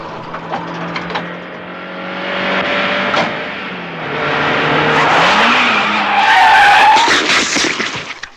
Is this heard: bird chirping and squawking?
no